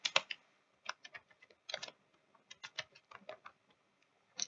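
Java code being typed on a computer keyboard: clusters of quick, light key clicks in short bursts with brief pauses, close and fairly quiet, no talking.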